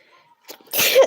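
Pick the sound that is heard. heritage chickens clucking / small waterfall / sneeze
sneeze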